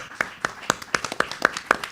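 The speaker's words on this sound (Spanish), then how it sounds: "Un aplauso para la traductora" A few people clap sparsely for a translator at the close of a talk, about eight distinct claps in a steady rhythm, fairly faint, with no other crowd noise.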